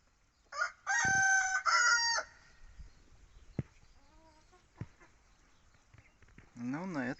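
A rooster crows loudly and close in a chicken coop also housing peacocks, followed by scattered clucks and short calls from hens, then another rising crow at the end.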